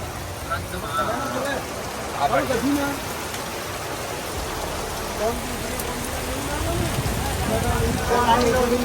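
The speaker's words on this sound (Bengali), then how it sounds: "এখন আধা ঘন্টা ধরে লাগাতার বৃষ্টি হচ্ছে" Steady rain in Vrindavan pours down without a break, a continuous close patter filling the whole stretch.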